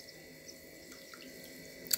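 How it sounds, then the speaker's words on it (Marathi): Maize grits being washed by hand in a vessel of water, a soft steady sloshing and trickling that stays faint and close throughout, with a brief louder splash near the end and no talking. "त्या पाण्याने स्वच्छ धुवून घ्यायच्या आहेत असं हलवून धुवून घ्यायचे आहेत"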